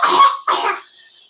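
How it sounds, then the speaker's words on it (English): Muzi, a pet, gives two harsh coughs in quick succession, close and loud, with a short fading rasp after the second and no talk over them. "He has a cough."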